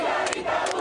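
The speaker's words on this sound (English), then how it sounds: "Calle 8 is filled with hundreds of people while clapping and chanting, "Freedom for Cuba, down with communism."" A crowd of hundreds packs Calle 8, a Miami street, clapping and chanting for a free Cuba, heard as a brief, steady roar of massed voices at a moderate distance.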